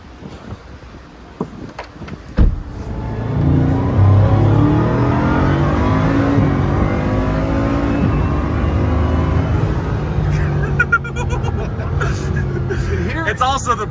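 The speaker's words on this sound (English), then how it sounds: "You can hear the turbos" A car engine revs hard and holds a loud, sustained roar with turbos whistling, while voices chatter in the background.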